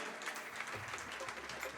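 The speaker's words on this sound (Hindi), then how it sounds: "एक बार तालियों के साथ शहीदी को बधाए" Audience applause at a memorial gathering, a dense continuous wash of clapping heard somewhat faintly, with a voice speaking over it.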